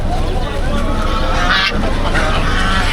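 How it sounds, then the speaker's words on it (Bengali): Ducks quack nearby amid a noisy crowd at a rural village market in bad weather, with people talking throughout. "এই জন্য হাঁস আবার বস্তায় করে ফেরত নিয়ে যাচ্ছে"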